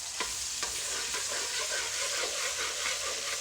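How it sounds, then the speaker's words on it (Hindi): Food sizzles in a hot frying pan as a utensil stirs and scrapes through it, with a few sharp clinks early on and steady frying hiss throughout, close and fairly quiet. "मिक्स कर लेंगे"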